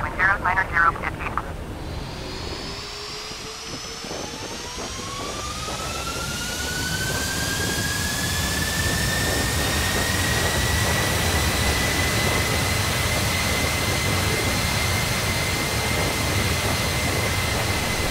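Jet engines of a Boeing 747 freighter spool up for the takeoff roll at London Heathrow, rising from a low whine into a steady, loud, sustained roar with climbing tonal whines, heard from inside the aircraft after a brief radio call.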